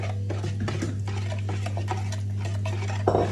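Cake batter stirred in a bowl at home, heard as steady quick scraping and light tapping of a utensil against the bowl over a constant low electrical hum, with a brief louder knock near the end.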